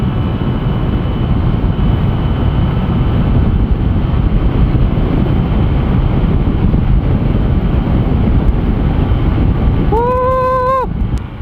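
Honda Click 150 scooter cruising on the road, a constant loud rush of wind and engine drone filling the whole stretch, with a brief rising horn-like tone near the end.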